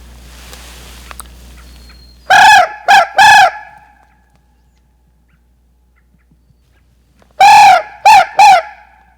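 A wild turkey gobbles in two loud, rattling bursts of three calls each, separated by several seconds of near silence, heard outdoors in the early morning during turkey season.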